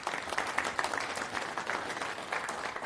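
Audience applause at an open source conference talk, a steady wash of many hands clapping at moderate volume throughout, heard from some distance in the hall.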